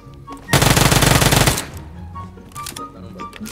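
Automatic gunfire in the mobile game PUBG Mobile, one loud, rapid burst lasting about a second, followed by quieter game sounds.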